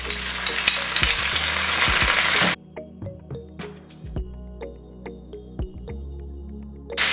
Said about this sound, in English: I am adding in the onions now,